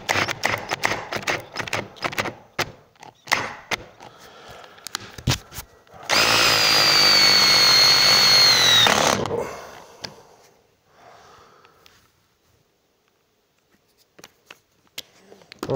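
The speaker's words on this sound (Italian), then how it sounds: "Ryobi in modalità avvitatore" A Ryobi LLCDI18-LL25S 18V cordless drill in screwdriver mode with no clutch drives a screw in one close, loud whirring burst of about three seconds, rising in pitch. Scattered handling clicks and taps come before and after it.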